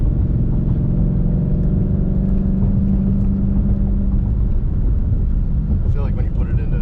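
A 2020 Ford Mustang Shelby GT500 engine roars loudly and steadily up close, building in pitch as it revs, with voices talking over it.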